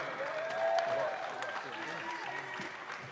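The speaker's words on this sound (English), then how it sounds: "give a big round of applause for none other than Floyd Mayweather." A crowd claps at a boxing post-fight press conference, a moderate spread of applause somewhat distant, with a voice talking over it.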